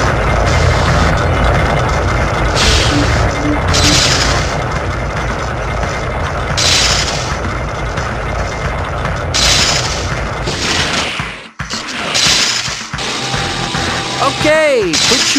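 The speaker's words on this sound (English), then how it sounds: "quit shooting the lasers." Blasts of laser fire in the PlayStation Spider-Man game boom repeatedly over a dense, loud action soundscape, with a brief drop to near silence before the shooting resumes.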